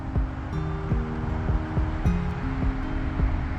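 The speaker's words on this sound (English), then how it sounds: "I stay right behind the highway for y'all that be wanting to know what that noise is." Steady highway traffic noise from just behind a home, a continuous broadband rush with no voices over it, while several ringing, clinking hits repeat close by in an uneven rhythm.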